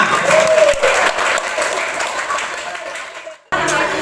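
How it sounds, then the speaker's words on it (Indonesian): An audience claps at a Catholic youth retreat in a parish hall: dense, steady applause fills the room, fades slightly, breaks off briefly, then resumes. "sekali lagi tepuk tangan untuk kita semua."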